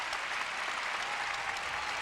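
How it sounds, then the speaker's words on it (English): Steady, dense applause from an ice-show audience greeting a figure-skating pair from Detroit, a continuous wash of clapping filling the arena without pause. "The applause for Elizabeth Punselin and Jared Swallow from Detroit."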